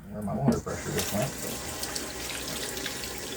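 Water runs from a tap into a sink in a workshop during a carburetor rebuild, a steady close splashing rush with a brief gurgle at the start, no talk.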